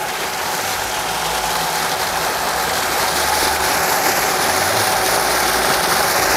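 JET 3000 electric water pump for rice-field irrigation spraying a strong jet of water, a constant rushing hiss like heavy rain or a stream, steady and close with no voices.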